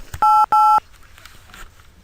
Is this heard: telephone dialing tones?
yes